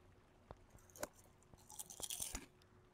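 Loud, crunchy chewing right at the microphone, a string of sharp crackling bites and crunches at an uneven rhythm during an online game session, with no talking.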